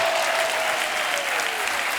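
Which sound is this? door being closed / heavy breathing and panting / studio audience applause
studio audience applause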